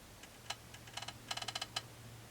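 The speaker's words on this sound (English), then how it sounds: "I'm just going to use my scissors again and cut a clean end off of my thread" Scissors snip sewing thread beside a new Baby Lock Zest sewing machine, giving a few quiet, sharp close clicks and a quick cluster of small snips over a low steady hum.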